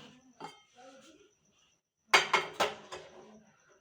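A spoon scoops two spoonfuls of milk powder for morning oats, giving a quick burst of four sharp clinks against the container after someone speaks briefly.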